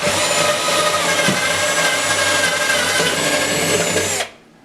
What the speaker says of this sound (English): drill holes